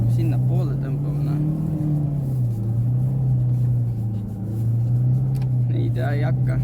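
A car engine labours uphill during a field rally, a loud, steady droning drone that dips slightly midway, close up, with people talking over it.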